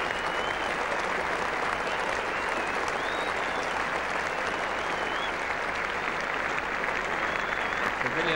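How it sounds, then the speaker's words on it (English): Spectators and Australian players applaud a batsman leaving the field at a 1977 England v Australia Test cricket match at Trent Bridge, a dense, sustained clapping from a large crowd that holds steady throughout. "the Australian players and spectators applauding Knott from the field"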